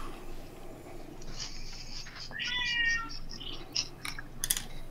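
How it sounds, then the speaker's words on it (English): A single drawn-out cat meow sounds at moderate distance amid a quiet room with faint clicks and rustles. "Sounds like the cat agrees."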